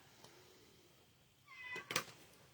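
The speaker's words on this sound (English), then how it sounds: "there's the cat" A cat meows twice in a quiet room, a soft drawn-out mew followed by a louder, sharper meow at the end, fairly close.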